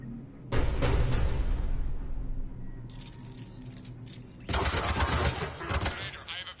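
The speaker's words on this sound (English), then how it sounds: "The cannon fire is clearing the way." Heavy cannon fire in Mass Effect 3 booms out in loud repeated bursts, the first lasting about two seconds, then a quieter rumble, then another long volley near the end over a low battle drone.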